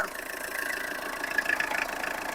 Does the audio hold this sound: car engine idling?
yes